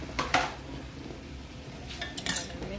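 A utensil clinks and scrapes against a pot while ramen and spinach are mixed, with two clusters of sharp metallic taps over quiet soft stirring.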